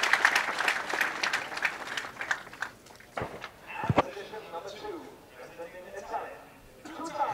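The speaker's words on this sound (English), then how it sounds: "And he's going to get a big round of applause" Applause from a crowd at the men's trap final of a shotgun world championship in Lonato, Italy, for a home-favourite world champion, clapping steadily at first and thinning out, with a commentator talking over it throughout.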